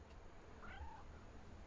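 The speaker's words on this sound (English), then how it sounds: "I hear a cat." A single faint cat meow in the video game What Remains of Edith Finch, heard alone and soft against a quiet, low background hum.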